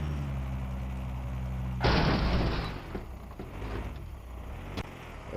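A car crashes in the Estate Agent Simulator video game, a sudden loud impact cutting through a low engine hum, followed by a crunching rattle of debris and a few softer knocks as it settles.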